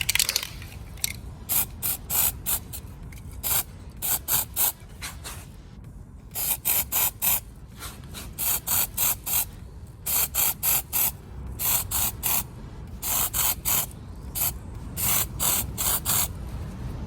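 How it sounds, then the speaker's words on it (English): Repeated short hissing bursts of aerosol crack-test developer sprayed onto a 318 LA engine block, close and fairly loud, in uneven clusters with brief pauses between, alongside faint mechanical clicks. "now we'll spray the developer on there"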